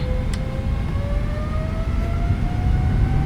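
Boeing 777-300ER jet engines in Microsoft Flight Simulator spooling up toward takeoff thrust, a steady loud low roar with a thin whine that rises slowly in pitch throughout.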